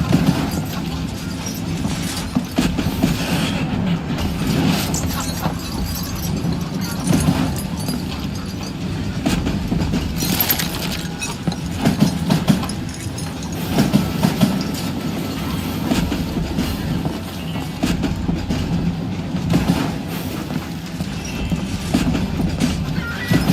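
Continuous rumbling train in the Western video game Call of Juarez: Gunslinger, with rhythmic clickety-clack of wheels on rails and intermittent clopping hoofbeats, loud and close throughout.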